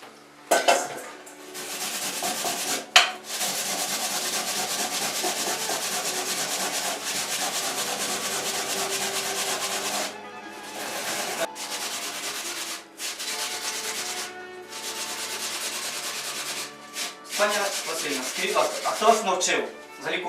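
Vegetables are rubbed against a hand grater for potato dumplings, producing a continuous rasping scrape in rapid back-and-forth strokes, close and fairly loud, broken by a few brief pauses and light clinks of the metal grater.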